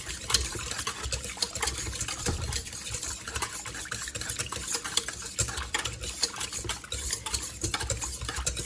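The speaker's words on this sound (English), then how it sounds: "you want to whisk this in until you get smooth" Rapid, steady whisking of a cinnamon roll mixture in a pot, with a busy scraping, rattling churn of the whisk against metal that carries on without pause.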